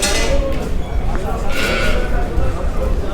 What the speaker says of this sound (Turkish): Bir de şu koçu gösterelim